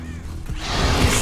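A Confringo fire spell is cast in Hogwarts Legacy: a short whooshing burst that swells from near quiet into a loud, rushing blast lasting about a second.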